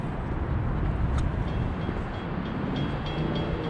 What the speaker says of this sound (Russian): Сейчас электричка тут проедет.